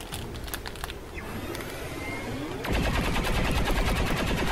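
Gunfire in the XCOM 2 video game arrives as a rapid burst of sharp reports, followed by heavier, dense automatic fire that continues to the end.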